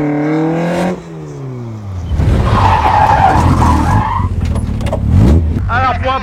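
A car in a gymkhana run revs its engine, then slides through a long handbrake skid with loud, rasping tire scrub, followed by more revving, with people's voices mixed in.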